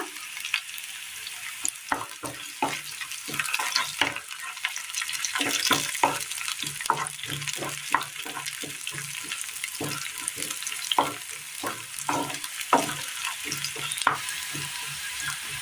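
Dried red chillies, curry leaves and shallots fry in oil in a pan, with a continuous crackling sizzle broken by rapid, irregular stirring clicks and scrapes, close and fairly loud.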